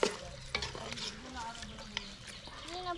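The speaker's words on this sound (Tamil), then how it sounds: "மசாலாவோடு சேர்த்து சிக்கனை வந்து நல்லா வதக்கி விட்டுப்போம்" Chicken leg pieces sautéing with masala in a pan give off a steady sizzle with scraping stir strokes, close and moderately loud, while a voice talks faintly in the background.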